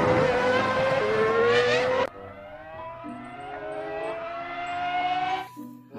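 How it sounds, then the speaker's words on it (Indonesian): A race car gives a loud, whining engine note that climbs steadily in pitch like a rising rev, then cuts off abruptly and starts a new, quieter climb that builds again before fading out. "lihat di sini ternyata ada mobil balap"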